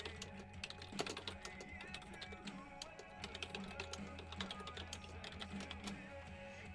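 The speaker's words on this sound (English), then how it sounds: "And I'll type in the seconds." Keys clatter on a computer keyboard in quick, irregular bursts of close, crisp taps over a faint steady background hum.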